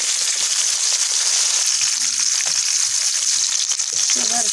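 Chopped sour fruits frying with onions in a pan, a constant loud hissing sizzle up close, with faint stirring clinks and a brief murmur of voice underneath.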